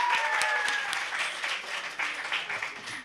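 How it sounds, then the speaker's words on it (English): Audience applause for the winners at a career fair award ceremony: sustained, dense clapping from a full room, loud and steady, easing slightly and cutting off at the end. "please give another big round of applause to all our winners"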